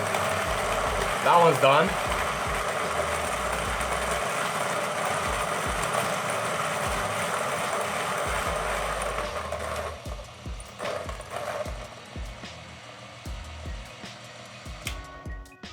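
DF83 and Niche coffee grinders running together with a steady whirring motor drone; one grinder stops partway, leaving a thinner hum with grinding rattles and clicks, and a voice speaks briefly near the end.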